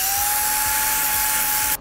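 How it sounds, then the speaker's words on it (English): A flap disc on an angle grinder whines steadily at a high pitch as it grinds rust off metal, loud and close, then cuts off abruptly at the end. "I just know that the flap disc is going to be way too aggressive"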